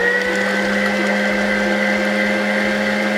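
An electric mixer beats egg whites for a Todos Santos sponge cake, a loud, steady motor whine with a constant pitch and no pauses.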